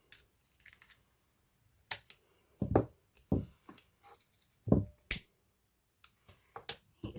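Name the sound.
scissors cutting excess ribbon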